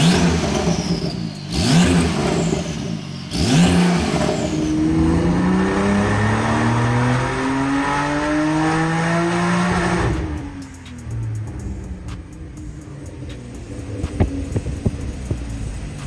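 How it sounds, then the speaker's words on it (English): A Porsche 992 Turbo S with an ES700 upgrade revs hard on a dyno. The loud engine climbs in rising sweeps, a few short blips come first, then it drops back to a lower, uneven rumble with some clattering. "so Tony's 992 Turbo S ES700 is now complete, and as they always do, it made 704 at the wheels"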